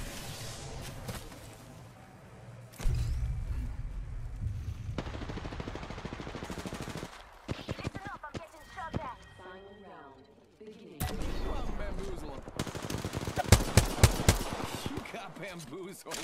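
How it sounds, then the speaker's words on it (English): Automatic weapon fire in an Apex Legends match, coming in loud bursts and sustained rattling volleys, broken by quieter stretches with game voice lines and a short reload. "Getting shot at."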